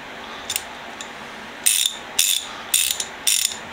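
A Bonnie Con USA ZT-702K 3/8-inch ratchet wrench clicking, slightly dry inside: a couple of faint ticks, then four loud, close bursts of rapid pawl clicks, with no talk.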